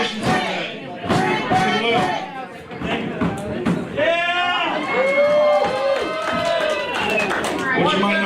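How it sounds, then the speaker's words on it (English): A wrestling crowd at a BunkHouse Brawl battle royal chants loudly in unison, a dense roar of voices rising and falling, with commentators talking over it. "This crowd chanting, "Bring back Brent.""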